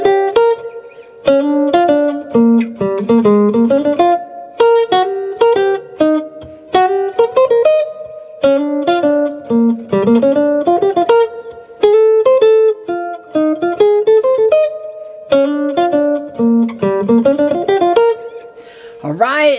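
A jazz guitar plays a Bb blues melody alone, clear single-note phrases with plucked attacks moving in a swinging rhythm through repeated choruses, up close and fairly loud.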